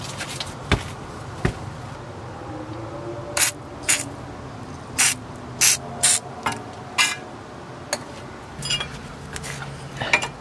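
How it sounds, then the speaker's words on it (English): Penetrating oil sprays from an aerosol can onto a rusty ball joint nut on a 1999 Hyundai Elantra, heard as a series of short, sharp hissing bursts in an uneven rhythm with faint clicks between. "first I'm going to shoot it with some penetrant oil, because that always helps"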